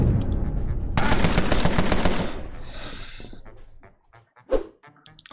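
Rapid automatic gunfire from the mafia strategy game Empire of Sin bursts loudly for a couple of seconds, followed by a tail of fading echoes and a few scattered sharp shots.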